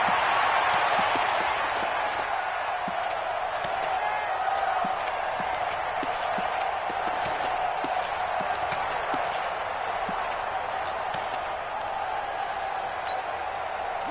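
Steady roar of a stadium crowd during a video game football broadcast, a constant broad wash of noise with faint scattered thumps and claps throughout.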